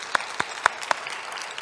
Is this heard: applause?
yes